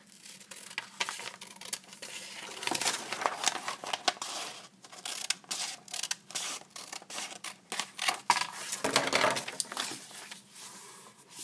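Scissors cut straight across a paper foldable along a solid line, a close run of crisp snipping and rustling crinkles with uneven, repeated bursts.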